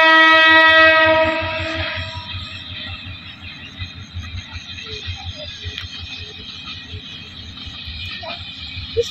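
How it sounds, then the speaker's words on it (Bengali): A train passes close by, opening with a loud sustained horn blast that fades after about two seconds into a rhythmic clatter of wheels over rail joints, with occasional metallic squeals as the cars roll past. "আজকে ট্রেন কম আছে রে বাবা"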